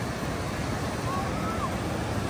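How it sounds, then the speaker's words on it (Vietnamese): Large ocean waves break on a beach where fishing boats come in offshore, making a steady, rushing wash of surf mixed with wind noise throughout. "Những cái cơn sóng rất lớn quý vị."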